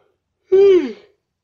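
One person gives a single short voiced yawn that slides downward in pitch and lasts under a second. It sounds close and clear against silence.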